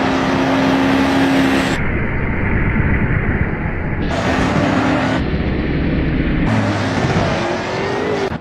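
In the BeamNG driving game, a Chevrolet Camaro's engine drones loudly and steadily at high revs, with abrupt shifts in tone and brief higher-pitched whines as it accelerates.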